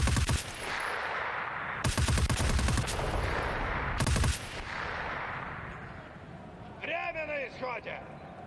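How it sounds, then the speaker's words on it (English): A PKP machine gun in a competitive video game match fires long sustained bursts, loud and dense, in several stretches separated by short gaps, with a commentator talking over the gunfire throughout. "loves the sound of that gun shooting it across the map"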